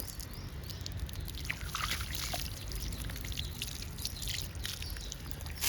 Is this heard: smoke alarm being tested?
no